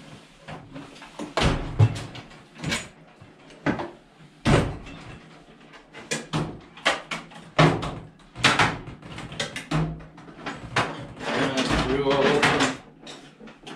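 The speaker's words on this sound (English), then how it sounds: "Looking through every single drawer, you never know." Drawers and cupboard doors in a shop are pulled open and pushed shut in a busy rummaging search, a run of close wooden knocks, slides and bangs with speech mixed in between them.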